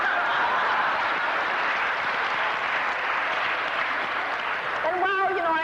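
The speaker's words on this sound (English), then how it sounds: "I think that deserves an applause." A lecture audience breaks into sustained applause, a dense continuous wash of clapping that holds steady, with a few chuckles and a voice starting to speak at the end.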